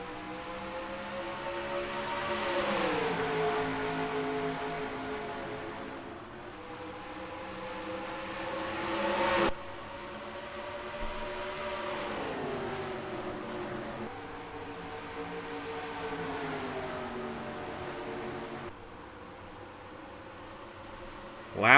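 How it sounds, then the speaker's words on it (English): Stock cars in the NRLOA Acme Markets 150 race at Dover drone steadily, the engine pitch sliding up and down as the field circulates at a distance, a continuous moderate roar with no speech. "we're racing here at Dover"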